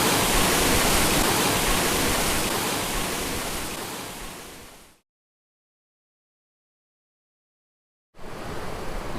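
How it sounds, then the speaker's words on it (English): River rapids on the Dniester rush and roar around a canoe stuck on a rock, a loud, steady broadband wash that fades out, drops to silence, then returns abruptly. "this is one of the craziest bits of rapids we've been on this river"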